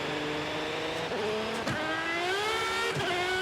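A car engine in Forza Horizon 5 revs and climbs through gears in rising sweeps, shifting twice with brief dips, steady and close without talk.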